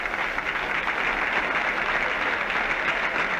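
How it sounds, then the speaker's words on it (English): Burst of applause from a cricket crowd at an Ashes match as Bradman walks out to bat, a dense, sustained roar of clapping filling the ground. "But in a moment there'll be a burst of applause because it'll be Bradman."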